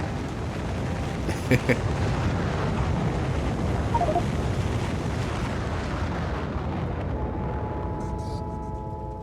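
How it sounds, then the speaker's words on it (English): Rocket launch in the factory-building game Factorio, a loud sustained rumbling roar with a dense noisy wash that slowly fades and thins, with a few faint tonal game sounds near the end. "Lots of rocket launches still."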